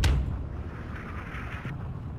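Artillery fire in the Steel Division 2 war game: one loud blast at the very start, then a steady, dull rumble of distant shelling that fades out near the end.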